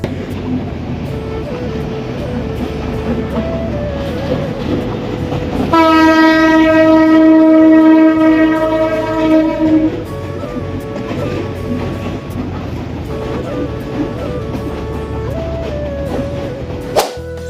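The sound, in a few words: train passing over a bridge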